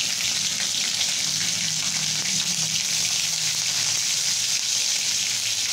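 Chopped green chillies and cumin seeds fry in hot oil, a steady, close sizzle with a broad hiss running the whole way through. Some low bubbling sits underneath, and no one speaks.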